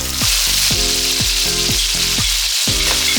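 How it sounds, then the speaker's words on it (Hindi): Minced chicken keema fries in oil in a karahi over a medium flame, giving a loud, steady sizzle broken by regular scraping strokes of a spatula stirring the meat. "अब इसको हम 5 मिनट के लिए मीडियम फ्लेम पर अच्छे तरीके से भून लेते हैं।"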